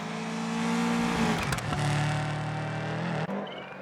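A rally car engine in the video game Assetto Corsa Rally roars and revs from an outside view, pitch shifting as it changes gear, with a brief dip and a short tire squeal near the end.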